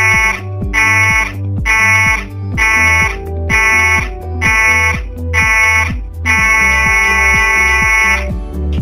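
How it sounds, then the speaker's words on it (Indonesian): A ship's emergency alarm sounds seven short, evenly spaced buzzing blasts followed by one long continuous blast. It is loud, harsh and alone, with no voices. "Jika Anda mendengar bunyi alarm pendek 7 kali dan panjang 1 kali"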